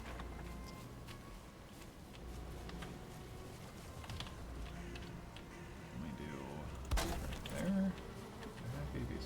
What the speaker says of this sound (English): Bees are happy, bees are happy, bees are happy, bees are happy.